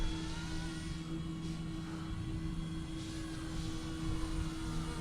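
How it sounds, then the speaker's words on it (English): An OH-58 helicopter in flight through gusty wind gives a continuous, loud, steady whir and hum with a constant tonal buzz from the tail rotor and engine, unbroken for the whole stretch. "You can kind of hear that tail working through the wind."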